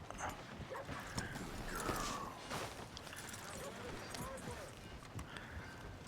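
Horse hooves clip-clop in Red Dead Redemption 2, a steady, close rhythm of game footsteps under continuous talk, with other game noises mixed in.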